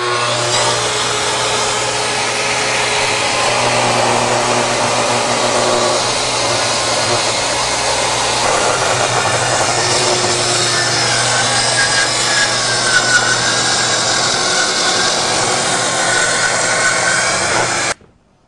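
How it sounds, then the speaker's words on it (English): Festool plunge-cut track saw fitted with a combination blade ripping through very thick lumber, giving a steady, loud whining and rasping cut that runs unbroken for about eighteen seconds before stopping abruptly. "this one I'm using because I'm cutting lumber that's so thick"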